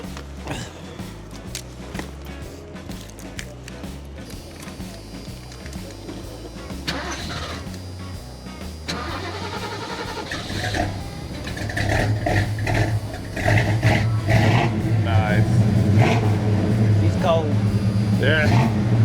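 A classic convertible at an outdoor car show on a cold day cranks over, catches and settles into a loud, steady running rumble that swells louder toward the end, with people talking nearby.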